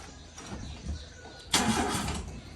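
A car engine cranks and catches partway through, then runs at a loud, close idle after a quieter stretch of background noise. No one speaks.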